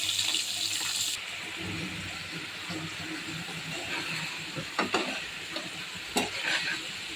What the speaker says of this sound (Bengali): মাছ ভাজা হয়ে গেছে, এখন নামিয়ে নেব।